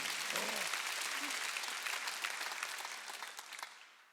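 A church congregation claps during a Sunday worship service, with a brief voice at the start, then dense applause that fades toward the end.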